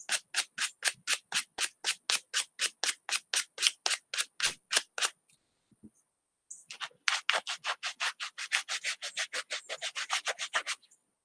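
Rapid rhythmic back-and-forth strokes of hand sanding wood with worn sandpaper, a long run of evenly spaced rasps, a brief pause, then a second steady run, close and clear with no talking.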